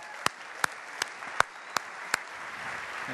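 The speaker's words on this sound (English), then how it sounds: "Guys, give them a round of applause." Sharp, isolated handclaps greet finalists called onto a conference main stage, about six slow, evenly spaced claps, fairly faint against a quiet room.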